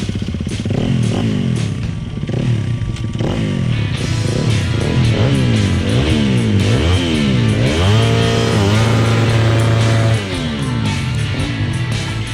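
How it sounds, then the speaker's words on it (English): A motorcycle engine fires up and revs hard for several seconds during a goggle roost test, loud and close, with repeated rising and falling throttle blips over a steady idle and no voices. "Gentlemen, start your engine."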